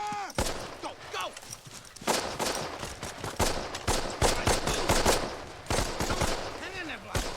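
Battle scene from Band of Brothers: dense, continuous gunfire with sharp shots and automatic bursts crackling throughout, mixed with whizzing and distant explosions, with shouting beneath the firing.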